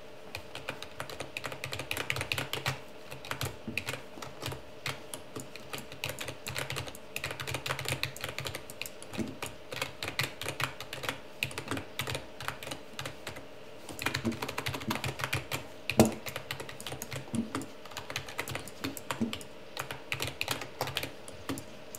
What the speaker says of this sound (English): Here's a clip of the keyboard in action so you can get a feel for what it sounds like while gaming.